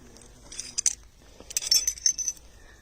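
Metal parts of an M4 5.56 NATO long-stroke rifle clink and jangle during disassembly, two short bursts of close, bright metallic rattling with quiet in between.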